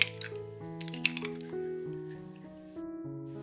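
Three eggs cracked into a bowl holding chopped sausage, cheese, tomato and herbs, giving a few brief wet cracks and squishes near the start, half buried under steady background music.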